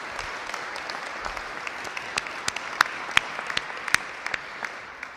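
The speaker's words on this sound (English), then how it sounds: "So please give him another round of applause" An audience applauds Illinois Governor JB Pritzker at an infrastructure announcement with steady, moderately loud clapping. Sharper individual claps stand out from the crowd for about five seconds, and no one speaks.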